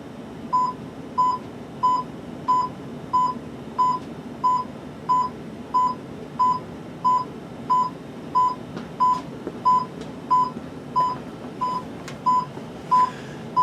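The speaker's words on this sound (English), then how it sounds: "As you can hear it beeping right now" A steady electronic beep from a model train remote controller searching for its Polar Express engine repeats at an even pace, about two per second, high and clear over a low background hum.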